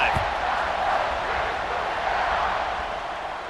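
Stadium crowd in EA Sports College Football 26 roars steadily, a dense, distant wash of cheering that holds at a constant level and fades slightly toward the end.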